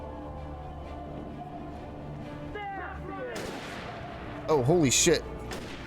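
Enemy gunfire in Alan Wake bursts out in sharp cracks partway through, under a background music bed, with a man reacting loudly over the shots.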